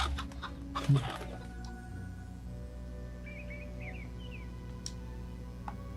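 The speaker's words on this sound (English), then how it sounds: "I forgot you can kick the chickens." Quiet clucking of chickens in the video game Fable over a low ambient hum, with a sharp thump near the start and a few scattered clicks.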